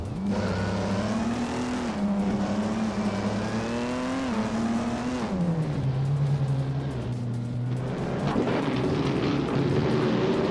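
Race cars driving in a racing video game, including a 1963 Agatonian Watson: a steady engine drone holding pitch, then dropping through gear changes and climbing again near the end, loud and close with no talk.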